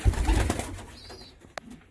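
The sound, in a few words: pet pigeon cooing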